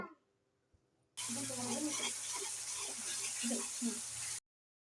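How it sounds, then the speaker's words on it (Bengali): Ground spices hitting hot oil in a wok on the stove, a steady broadband sizzle that starts abruptly after a quiet moment and holds close and loud for several seconds before cutting off. "আমি এগুলো বেটে চুলায় একটি কড়াই বসিয়ে কিছুটা তেল দিয়ে তারপরে এগুলো দিয়ে ভেজে নেব।"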